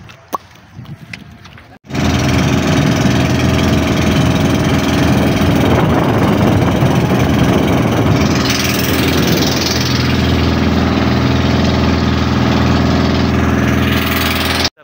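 Boat engine on a ride toward White Beach, a loud steady drone that starts abruptly and runs continuously up close, with wind and hull rumble, no talk.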